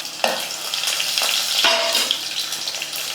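Two dried red chillies are tempered in hot oil for a Tamil dal kulambu, with a steady close-up sizzle and spatter that flares briefly as they hit the pan.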